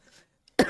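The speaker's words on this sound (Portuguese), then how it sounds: "Essa tosse não me larga." A single sharp, close cough bursts out after a moment of near silence and faint breathing, ending in a short rasp.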